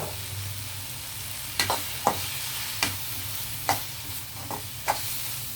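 Egg roll filling frying in a pan after a spoonful of soy sauce, a steady low sizzle under several sharp scraping stirs of the spatula, close and moderately loud.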